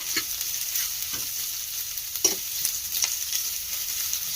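Onions fry in a pan as tomatoes go in, giving a steady, moderate sizzle broken by several soft stirring scrapes and one brief louder clack.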